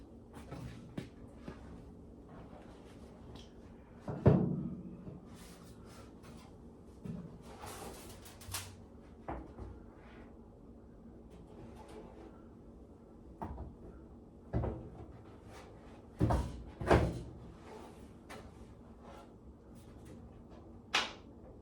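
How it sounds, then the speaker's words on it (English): Door being fitted onto a 1972 VW Super Beetle in a garage: scattered metallic clunks, knocks and scrapes at close range, with a few louder thuds spread across the stretch and no talk. "I'm going to nervously try to put the door on."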